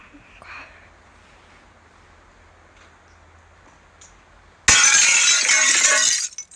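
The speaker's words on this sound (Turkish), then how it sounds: "Camı kırdı." In a horror video game, glass shatters suddenly and loudly after several seconds of quiet ambient hum. The crash sustains briefly with tinkling debris before cutting off.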